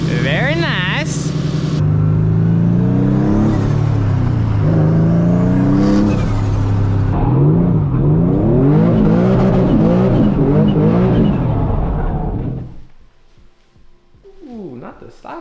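A 500 hp 1999 Nissan Silvia S15 Spec R engine revs and climbs through rising pulls while driving, loud and close from inside the car, with talking throughout before the engine drops away near the end.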